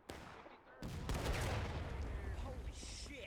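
Rifle gunfire crackles through a video game battle, an abrupt burst giving way to a dense, sustained roll of overlapping shots with distant echoes, steady and loud throughout.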